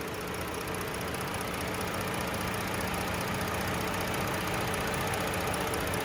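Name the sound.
3.5 liter gasoline engine idling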